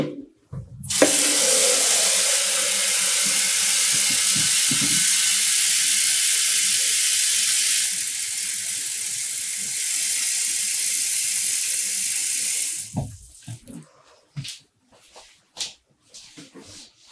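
Water gushes from a tap into a pot, about three liters measured out for dyeing yarn. The loud, hissing stream runs for roughly twelve seconds with a brief shift midway, then cuts off into clinks and light handling sounds.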